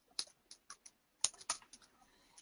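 Fingers tap on a computer keyboard in short, irregular bursts of crisp clicks, close and quiet in an otherwise silent room.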